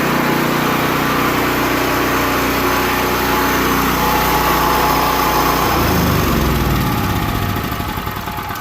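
A small ETQ 3000W generator engine runs steadily at close range, a loud continuous buzzing drone that shifts slightly in pitch near the end, with no voices.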